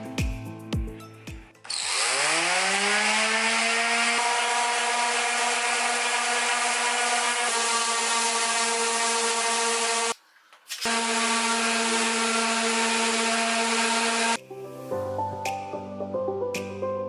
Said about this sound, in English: I've got my orbital sander ready, and I'm going to put on my gear and get sanding.